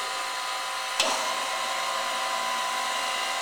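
Universal cylindrical grinding machine with its main spindle running, a steady broadband whir and hum that starts with a brief click near the one-second mark and then holds at an even level to the end.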